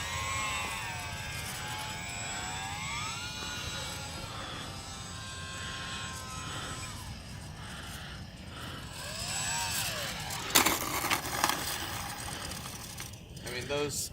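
A UMX Mini Timber RC park flyer plane buzzes overhead, its small electric motor whining and shifting pitch as it climbs and passes, with some faint rattling and handling noise near the end.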